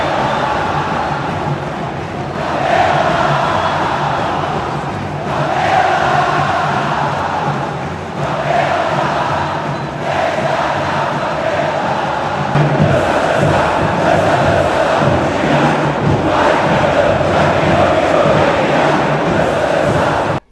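Flamengo supporters at the Maracanã stadium chanting the rhythmic poropopó in unison, a huge, loud crowd roar swelling in repeated waves throughout with no break.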